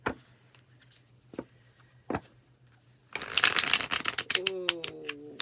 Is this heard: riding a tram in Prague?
no